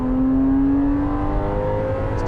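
A Porsche Cayman's engine revving hard, a loud continuous rising drone climbing in pitch as it builds toward the top of the rev range, heard up close from inside.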